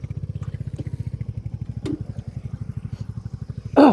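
A Royal Enfield Hunter 350 motorcycle runs on the road during a top speed run, its engine giving a steady, even thumping pulse up close, with a brief louder burst of noise at the very end.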